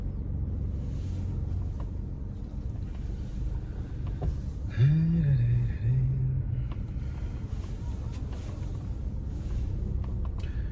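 A Kia Morning small hatchback drives along with a steady low engine and road rumble inside the cabin, and a short tonal squeak partway through.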